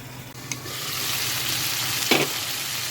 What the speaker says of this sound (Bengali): পটলটা সিদ্ধও হয়ে যাবে ভালো আর পটলটা ভাজাও হয়ে যাবে ভালো